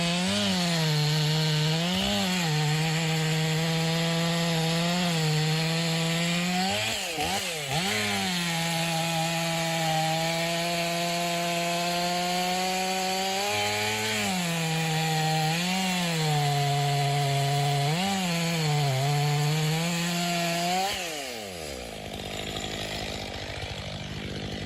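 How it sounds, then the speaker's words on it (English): A chainsaw cuts through a massive log in a tree cutting contest: loud, continuous engine whine rising and falling in pitch as it bogs into the wood, then dropping off near the end. "The massive log is swiftly and decisively brought down by the chainsaw."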